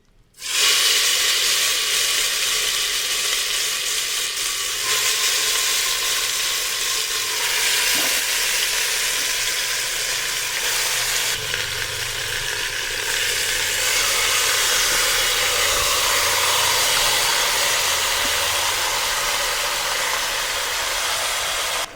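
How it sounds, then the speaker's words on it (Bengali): Marinated mutton dropped by hand into spices frying in oil sets off a loud, steady sizzle and hiss that holds close and continuous for about twenty seconds, with no voices over it. "এবার যে মটনটা ম্যারিনেট করে রেখেছিলাম সেটাও দিয়ে দেবো। এটা ঢেলে দেওয়া যাবে না, আমি হাতে করে দিচ্ছি।"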